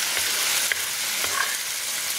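Fly agaric mushrooms frying in a pan, a continuous bright sizzle with a few soft scrapes and stirring clicks, close and steady with no talking.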